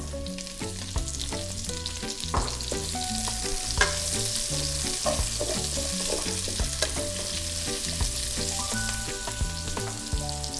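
Chopped onion frying in a little oil left from browning chicken for a Filipino chicken curry, giving a steady close sizzle with light stirring under tonal background music.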